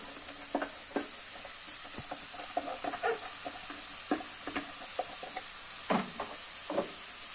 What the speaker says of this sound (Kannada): ಈರುಳ್ಳಿ ಫ್ರೈ ಆದಮೇಲೆ ತರಕಾರಿ ಹಾಕ್ಕೊಳ್ಳಿ ನೀಟಾಗಿ ಚೆನ್ನಾಗಿ ಫ್ರೈ ಮಾಡ್ಕೊಳ್ಳಿ